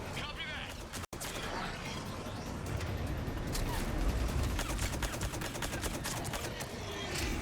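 Sustained rapid gunfire rattles through a Mass Effect 3 combat firefight, dense bursts of shots layered with mechanical clatter and voices talking over the battle.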